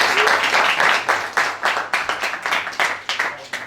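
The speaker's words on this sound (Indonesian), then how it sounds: "Boleh kasih aplaus untuk beliau." Audience applause at a community gathering held by a Riau provincial legislator in Bagan Keladi, Dumai: a crowd clapping steadily and moderately close, fading then swelling in waves, with no talking.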